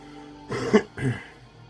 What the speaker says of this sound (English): Sorry, I had to clear my throat.